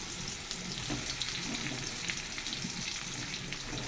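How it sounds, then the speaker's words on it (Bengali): White pointed gourd (potol) pieces fry in hot oil with potato and stems, giving a steady dense sizzle with faint crackles and occasional stirring throughout, no voices. "পটলগুলো ভেজে নিই।"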